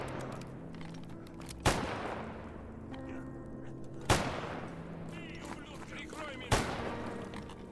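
Three sharp gunshots at even intervals ring out during a firefight in STALKER: GAMMA, each a loud crack with a short decay over a busy background of game ambience and faint voices.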